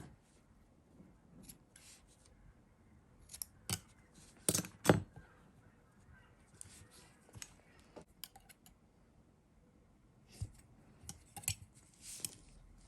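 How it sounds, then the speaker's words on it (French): Small scissors snip cotton wick for a rebuildable vape coil, scattered quiet clicks and short snips at close range with pauses between them. "Là, les cotons sont visiblement beaucoup trop longs, donc on va encore découper un petit peu."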